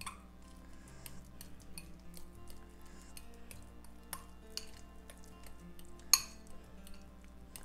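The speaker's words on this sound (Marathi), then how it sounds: "पण हे जे केळी आहे ना खूप पिकलेली केळी आहे, त्याच्यामुळे मी फोर्कच्या सहाय्यानेच मॅश करत आहे." A fork mashing very ripe bananas in a bowl, giving soft clinks and scrapes of metal against the dish in an uneven rhythm, close and quiet, with one sharper clink near the end.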